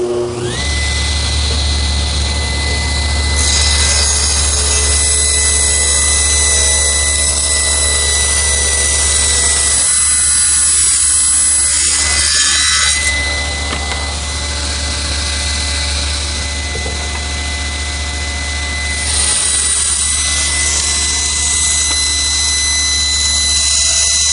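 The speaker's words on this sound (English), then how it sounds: "now with my rip fence set for a 2-inch cut, we'll rip some end grain" A table saw with its rip fence set for a 2-inch cut rips strips of end grain wood for a butcher block, its loud, steady motor whine running nearly throughout with a brief dip midway.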